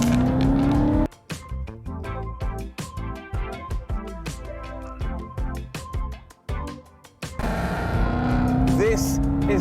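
Supercharged Ford Mustang CS850 GT with custom-tuned Whipple supercharger, intercooler and new exhaust, its V8 rising in a rev, then rapid gear-change pops and crackles in a stuttering run before building again.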